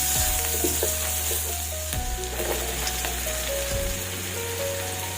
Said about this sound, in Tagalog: Saute natin yung ating onion.